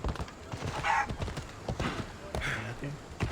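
Rhythmic hoof clip-clops of a horse on hard ground in Assassin's Creed Odyssey, with a brief whinny, moderately close, under some background chatter and noise.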